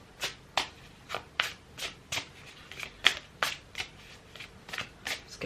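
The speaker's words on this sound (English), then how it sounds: "Let's give them a good shuffle first." Tarot cards being shuffled by hand, a series of crisp riffles and flicks in an uneven rhythm, close and fairly quiet with no talking.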